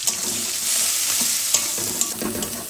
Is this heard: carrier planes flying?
no